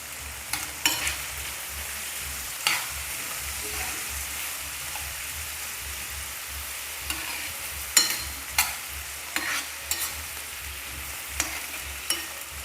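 Curry leaves and onions fry in a pan with a soft steady sizzle, broken by a few sharp scrapes and clinks of stirring spread through the clip, close and moderately quiet with no talk.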